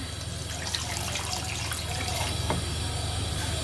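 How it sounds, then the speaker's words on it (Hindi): Water poured into a wok holding chicken pieces for yakhni, a loud steady gushing pour close up, continuous throughout with no talking. "इसमें मैं 2 कप पानी ऐड करूंगी।"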